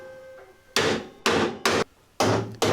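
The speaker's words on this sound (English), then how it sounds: "then hammered the flange back over the repair" Metal hammering on a Talbot camper bonnet, folding a flange over a welded repair: five sharp, ringing blows in an uneven rhythm, close and loud, with a faint hum before the first strike.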